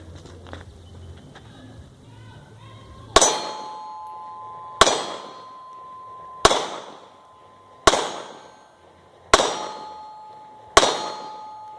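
Six sharp, loud pistol shots from a Walther PPS M2, fired strong hand only at a silhouette target from 10 yards, spaced about a second and a half apart, each followed by a ringing metallic ping of the steel target, after quiet handling noise.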